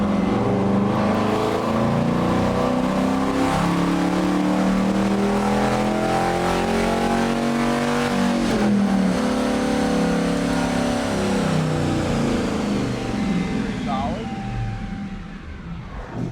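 A supercharged Hemi Charger accelerating hard through the gears, its loud roaring note climbing in pitch, dropping at each shift and climbing again, then easing off near the end; close and powerful throughout.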